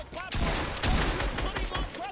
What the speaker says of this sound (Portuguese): Tiro pela parede.